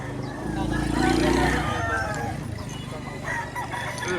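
Rooster crowing loudly and close at a farm in Lipa, Batangas, a single long crow with other fowl sounds and a voice talking over the yard noise.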